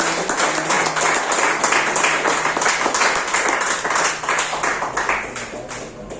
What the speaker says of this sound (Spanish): Den un aplauso.